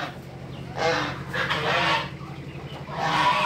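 Guinea fowl on a farm call in harsh, rasping bursts, three loud squawking outbursts separated by short quieter gaps, fairly close, over a low background hum.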